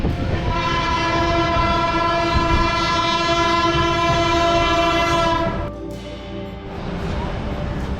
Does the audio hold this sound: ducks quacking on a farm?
no